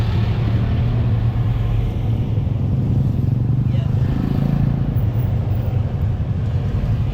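Road traffic on the way to Cavite, Philippines, a steady loud engine rumble and drone heard up close from inside a moving vehicle, without pauses.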